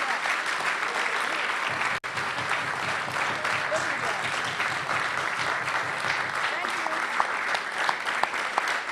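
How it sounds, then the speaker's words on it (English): An audience gives a round of applause for a speaker, a dense, sustained wash of clapping that holds steady from start to finish. "I'd like to ask everybody for a wonderful round of applause for our speaker today"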